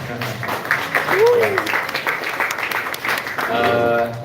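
Audience at a university panel on news and media clapping, a continuous burst of applause under cheers and raised voices throughout.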